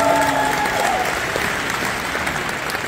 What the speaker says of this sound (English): can you give a round of applause for the Nigerian parents?